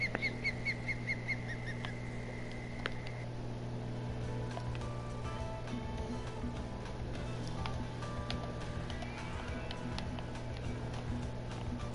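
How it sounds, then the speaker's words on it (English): Repeated bird calls in the Fishing Planet video game, set in the Florida Everglades, ring out as a short series of high, evenly spaced notes over a steady ambient hum, with no talking. "that bird can kind of be annoying"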